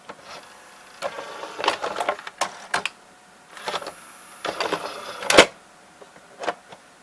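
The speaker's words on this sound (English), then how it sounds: "Now here's the ejecting mechanism. Or I could say the carriage mechanism." Sanyo VCR-7200 Betamax VCR's eject and carriage mechanism working: a series of mechanical clicks, clunks and short whirring motor bursts, close and fairly quiet, irregularly spaced with a louder clack near the end.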